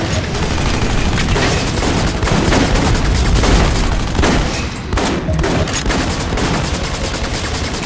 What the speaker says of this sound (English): Captain, switch out and fire.